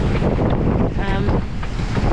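Loud wind buffets the microphone over the rush of waves and water against a sailboat's hull at sea off the UK east coast, a constant roaring wash with no letup.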